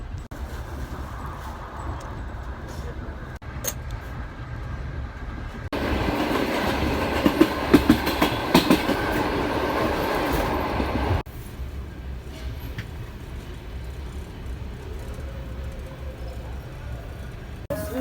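Passenger train rolling along rails, heard from inside the carriage as a steady low rumble with rhythmic clatter; the noise swells louder for a few seconds in the middle, then settles back to the constant hum.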